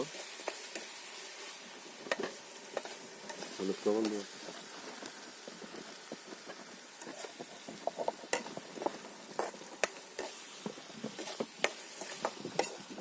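Stirring and frying in a pot on a boat in the Sundarbans, a frying sizzle under repeated clinks and scrapes of a spoon against the pot, with a brief bubbling burst early on.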